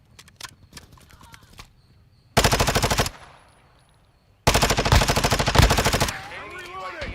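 Call of Duty Modern Warfare II gunfire, with two loud, sustained bursts of rapid automatic fire from a Vaznev-9K separated by quieter scattered shots and game effects, close and dominant.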